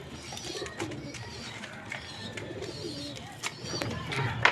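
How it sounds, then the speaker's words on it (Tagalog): Pigeons kept by a fancier cooing while being fed, soft repeated low coos and flutters at moderate distance, with occasional chirps and brief background voices. "Nagpakain na nga pala siya ng mga kalapate."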